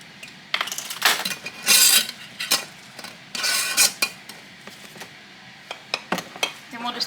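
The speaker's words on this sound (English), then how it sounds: "We're just going to stir it up. Make sure you stir it up really well." A spoon stirs ranch dip ingredients in a bowl, giving irregular clinks and scrapes against the dish in bursts, close and fairly loud.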